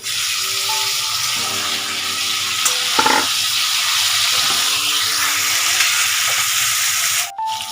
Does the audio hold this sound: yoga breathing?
no